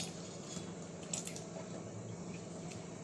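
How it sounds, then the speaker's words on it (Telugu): A whole tomato being mashed and squished by hand for tomato tamarind rasam, a soft, faint, wet squelching that runs steadily and close. "టమాటా కాయ మొత్తం స్మాష్గా ఇట్లా కలిపేసేయండి."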